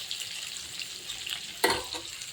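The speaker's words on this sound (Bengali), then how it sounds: "পটলটা এবার ভাজা হবে।" Pointed gourd (potol) sizzles and fries in hot oil in a pan for mustard potol, a steady soft crackle with a brief louder stir or clatter near the end, no voices.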